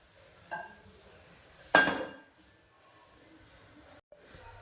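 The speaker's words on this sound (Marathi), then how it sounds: "हे पहा कढी ठेवली आहे" A wok is set down on a gas stove with a single clear metallic clank, a softer knock before it, then quiet kitchen background.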